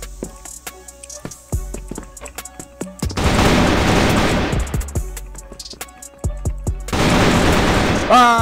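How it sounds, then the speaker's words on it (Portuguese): Gunfire in a first-person shooter video game: rapid bursts of automatic fire and sharp single shots with heavy booms, loud and close, repeating across the whole stretch. "Eu dei tiro nele sem querer."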